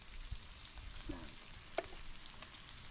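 Barbecue meat sizzling on an outdoor grill at a backyard Father's Day gathering in Canada, a faint, steady crackling hiss with a few soft pops and clicks.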